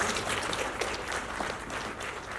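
An audience at a film success celebration claps, giving a short stretch of fairly faint, dense applause with scattered louder claps.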